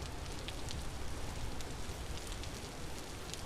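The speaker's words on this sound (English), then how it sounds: "Sometimes the rain's too much." Heavy rainfall pours without pause in the video game Vintage Story, a close, even hiss of countless drops striking surfaces, heard alone.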